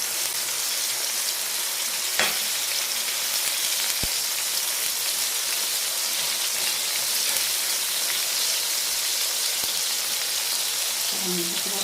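Egg and vegetable mixture with tomato sizzles steadily in a frying pan, a dense, even crackle with a brief sharper pop near the start and a faint low sound at the end.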